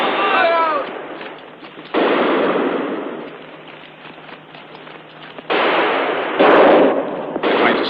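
Gunfire in a 1963 adventure film battle scene: continuous loud crackling volleys of shots and bursts mixed with dense noise and shouting, in several sustained waves.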